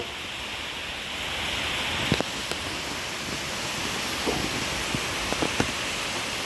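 Steady broadband rain falling at a distance on a rainy day in a rural native village, a continuous even hiss with a few faint clicks and knocks, no voices.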